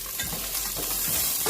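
Corn goes into a kadhai of frying vegetables for vegetable dum biryani, giving a short, fairly quiet burst of sizzling with light stirring and scraping.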